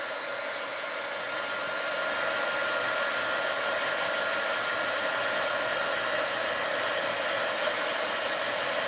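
A heat tool blows steadily to soften the glue on magazine labels, a constant, fairly close whooshing hiss with no break.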